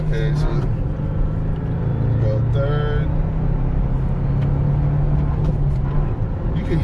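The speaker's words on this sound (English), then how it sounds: "can hear the turbo" A 2025 Toyota Tacoma TR with a manual gearbox and turbo engine pulls hard in third gear to overtake, a steady low engine drone with a faint turbo whistle running beneath continuous conversation inside the cab.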